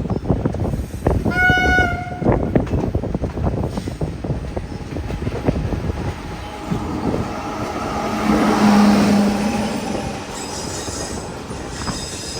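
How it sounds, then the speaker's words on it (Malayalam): A Thiruvananthapuram–Kannur Jan Shatabdi Express pulls into Kollam Junction railway station along the platform, a loud, steady rumble of rolling wagons with clattering wheels and brief high squeals, swelling as the train draws closer. "കൊല്ലം ജംഗ്ഷൻ റെയിൽവേ സ്റ്റേഷനിലേക്ക് ഇതാ നമ്മുടെ ട്രെയിൻ എത്തിക്കൊണ്ടിരിക്കുകയാണ്."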